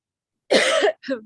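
Two close coughs, the first a long harsh burst and the second shorter, loud and near, with no talking.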